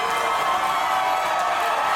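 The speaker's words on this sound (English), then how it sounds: "this crowd in St. James Square is going wild" A pro wrestling crowd in St. James Square roars and cheers wildly, a steady loud wash of shouting voices filling the space without pause.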